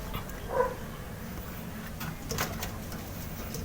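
A short bird call, a soft coo-like note near the start, followed by faint scattered chirps over a steady low background hum.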